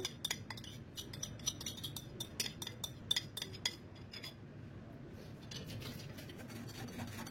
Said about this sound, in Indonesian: Sekarang kita saring ke dalam wadah yang satunya untuk memastikan biar nggak ada tepung yang bergerindil